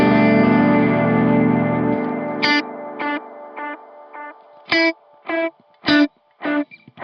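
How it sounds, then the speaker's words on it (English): A sustained guitar chord fades, then single plucked notes ring out, each trailed by warbling, slightly wavering tape-echo repeats from an Anasounds Utopia Deluxe delay pedal that die away in the gaps. "I'm getting more of a typical tape echo sound, so you'll hear a little bit of modulation on the repeats"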